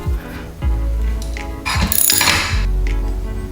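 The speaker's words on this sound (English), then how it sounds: "So first off, we got to remove this bolt." Metal-on-metal mechanical clicks and scrapes from a wrench loosening a bolt on a motorcycle center lift stand adapter plate, a few close, fairly loud ratcheting bursts with brief pauses, no talking.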